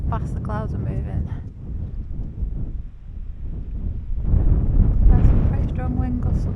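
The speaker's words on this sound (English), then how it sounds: "Strong wind gusts up here." Strong wind gusts buffeting the microphone high in the Cairngorms mountains, a rumbling roar that swells and fades and grows heavier toward the end, with a person talking over it.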